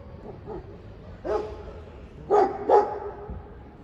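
Stray dogs bark in a neighbourhood children's park in Bahçelievler, Çorum, Turkey: a few faint yips, then three louder, sharp barks at moderate distance over quiet outdoor background.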